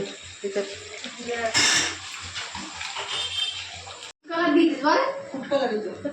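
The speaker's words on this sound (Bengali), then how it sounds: "আর আমি এখন কড়াই মাজি।" Tap water runs steadily into a sink while a wok is scrubbed during dishwashing, with a brief break partway through; voices talk over the running water.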